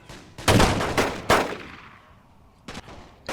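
Infantry rifle volleys in The Great War video game, several loud sharp shots in quick succession followed by a pause and another pair of cracks, each trailing off in echo.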